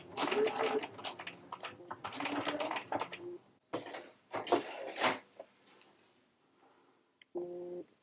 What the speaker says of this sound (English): I'm going to come in and just do a few back stitches.